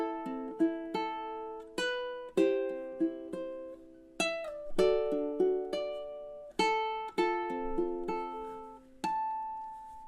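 Fingerstyle ukulele plays the opening four bars of House of the Rising Sun with a short pickup, sounding clear, plucked arpeggiated notes that ring out alone over about ten seconds.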